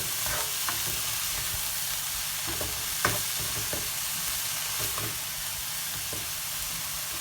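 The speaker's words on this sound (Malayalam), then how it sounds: "പാകത്തിന് ഉപ്പും ചേർത്തിട്ട് നമുക്കിത് ഇളക്കി കൊടുക്കണം." Beetroot thoran with salt stirred in a pan, a soft steady sizzle broken by scattered scraping taps of a spoon, close and without speech.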